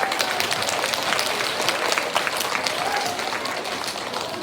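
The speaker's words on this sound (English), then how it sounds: "Let's do one final round of applause for all of our trailblazers and engineers" A school assembly audience of young students applauds their trailblazers and engineers, a busy, moderately loud patter of many small hands clapping with some faint voices mixed in throughout.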